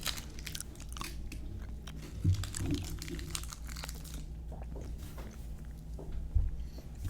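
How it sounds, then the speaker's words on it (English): Someone chewing food close to a microphone, with scattered crunchy bites and wet mastication sounds over a low background rumble, fairly faint with occasional louder crunches. "I'm going to try not chew into the microphone."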